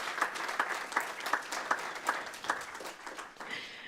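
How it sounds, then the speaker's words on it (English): An audience at a city council meeting gives a round of applause, many hands clapping steadily with a few sharper individual claps standing out, moderately distant and sustained for several seconds before tapering. "help acknowledge all their hard work and dedication with a round of applause"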